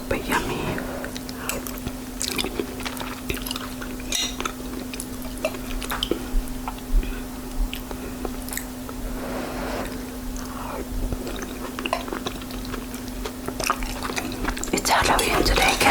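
Close, quiet chewing and wet mouth sounds while eating birthday cheesecake and homemade clam chowder, with soft squishes and smacks over a low steady hum, sporadic and intimate throughout.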